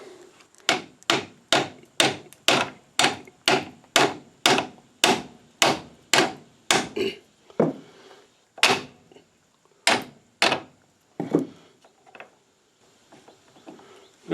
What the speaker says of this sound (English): the closest thing at hand becomes a hammer